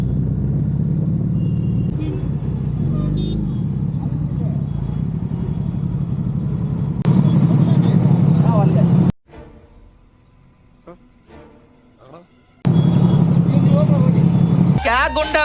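Suzuki Hayabusa engine droning steadily under way, loud and close with wind rush, cutting to a quieter stretch before the roar returns; a rider talks over it.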